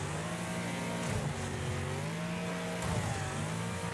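Several racing car engines in the demolition racing game Wreckfest drone and rev continuously, pitch rising and falling through gear changes, loud and close with no talk.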